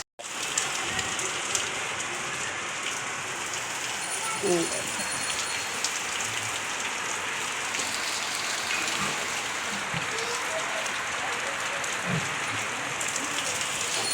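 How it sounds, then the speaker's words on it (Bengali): Steady rain pours down outside in a constant hiss, with occasional soft knocks and faint voices underneath. "আর বাইরে বৃষ্টি নেমেছে"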